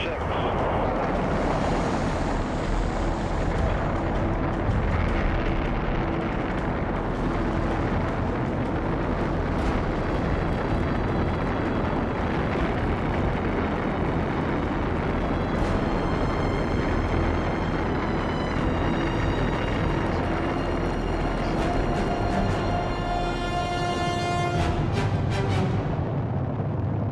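Rocket engines igniting and roaring at a moon mission launch, a loud, steady, unbroken rumble that fills the whole stretch without letting up.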